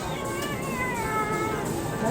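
A cat meows repeatedly in drawn-out, wavering cries, close and fairly loud, with a steady background hiss and some faint talk underneath.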